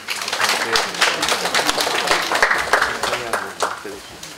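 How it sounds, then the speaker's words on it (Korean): An audience at a university software presentation gives a dense round of clapping to welcome a student speaker. The applause is fairly close and runs throughout under faint voices. "IT 과정의 태영 학생을 큰 박수로 맞이해 주시기 바랍니다."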